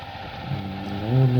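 Mini tractor fitted with potato hillers working a field, its small engine chugging and rising in pitch over a short stretch, close and fairly loud.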